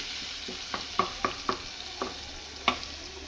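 Ginger and green chili sauté in a pan for red sauce pasta, with a soft steady sizzle under a series of sharp spoon taps and stirring clicks.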